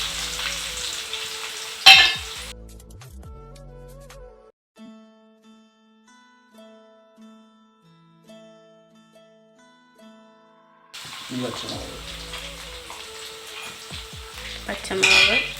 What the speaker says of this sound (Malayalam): അടുത്തതായിട്ട് ഇടാൻ പോകുന്നത് ഇഞ്ചിയും വെളുത്തുള്ളിയും ചെറുതായിട്ട് അരിഞ്ഞു വെച്ചതാണ്